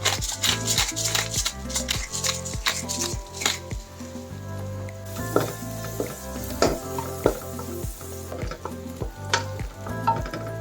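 Garlic and black pepper sautéing in a pan for pork patatim, a loud steady sizzle layered with stirring clatter and busy kitchen sounds, with no talking.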